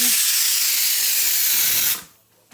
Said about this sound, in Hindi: राजमा सीटियाँ लगी हैं